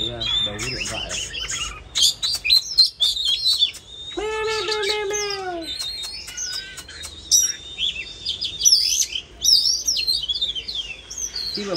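An oriental magpie-robin sings close by in rapid, varied whistles and chirps, with a run of descending warbled notes midway and bursts of sharp calls throughout.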